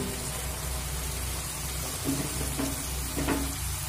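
Pre-fried prawns and eggplant go into a pan of cooking spinach, raising a steady hiss of frying with a few soft clatters from the pan, close and moderately loud.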